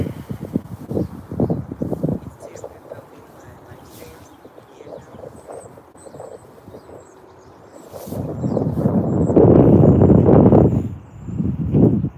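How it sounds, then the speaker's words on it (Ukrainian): Gusty wind buffets the microphone with low rumbling roars, swelling loudest near the end, while a voice speaks faintly underneath. "Сьогодні капець, як вітряно."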